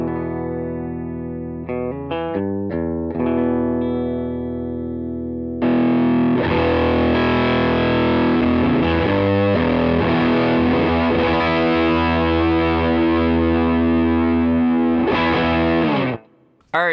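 An electric guitar with two PAF-style Mojo Tone humbuckers plays through a Cornerstone NERO fuzz pedal into a 1973 Fender Deluxe Reverb. A few short, choppy distorted chords come first, then a loud, sustained fuzzy passage that rings out and cuts off.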